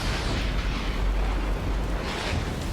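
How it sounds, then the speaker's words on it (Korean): A lightning strike sound effect: a loud, sustained rumbling crash of thunder-like noise running through the whole short stretch, with a brief brighter crackle swelling near the end. "전화선을 타고 들어 약 18만 볼트의 벼락을 맞게 된다"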